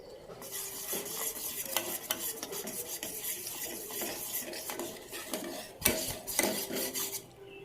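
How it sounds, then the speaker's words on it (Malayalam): A utensil scrapes and clinks against a pan while mango pudding is stirred as it cooks, an irregular series of close scraping strokes and metallic taps over a faint sizzle. "നന്നായിട്ട് അടിയിൽ പിടിക്കാതെ ഇളക്കി വേവിച്ചെടുക്കാം."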